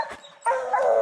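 Hunting hounds bay and yelp at a bear treed in hot woods, a short burst of close, high-pitched dog barking and whining lasting about a second.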